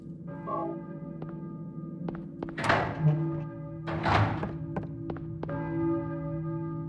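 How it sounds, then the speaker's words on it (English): A church bell tolls in a horror video game, struck several times at a slow, uneven pace, each strike ringing out over a low steady hum. Between strikes come soft thuds and taps. "I hear a bell? There we go, church bell."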